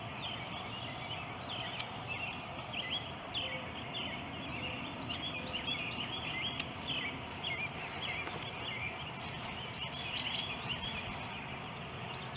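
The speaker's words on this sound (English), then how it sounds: "Hear all the birds chirping." Birds chirp and call continuously in the distance over a steady outdoor background in an old cemetery, with a few sharper calls standing out.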